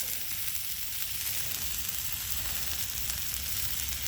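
Steak sizzles in a cast-iron pan outdoors in the woods, a steady, even frying hiss with no voices.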